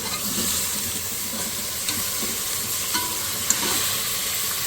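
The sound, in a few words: mutton frying with onions in a pan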